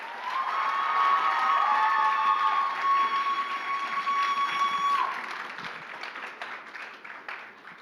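Audience at an anime convention cosplay performance claps and cheers loudly, with high whoops and shouts over the applause, which then tapers off into scattered clapping and crowd murmur.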